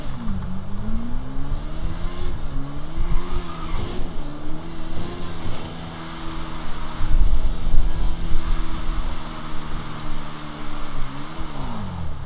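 A motorbike engine revs in GTA V Online, its steady drone rising and falling in pitch as the rider accelerates and eases off, loud and continuous for several seconds with no talk.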